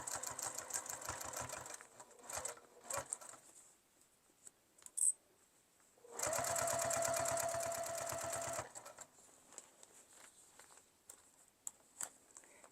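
A home sewing machine stitches a tote bag in quiet bursts of rapid, even needle clatter, with a longer steady run in the middle and small handling sounds between.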